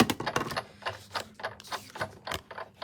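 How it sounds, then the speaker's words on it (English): Die-cutting machine rolling a craft die through paper, a rapid clattering, ratcheting series of close mechanical clicks and knocks lasting a few seconds, with no talking. "I'm just going to die cut it."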